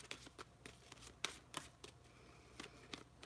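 Tarot cards being shuffled by hand during a late-night reading, a series of soft, quick riffling and tapping bursts in an irregular rhythm, close and fairly quiet, with no talk.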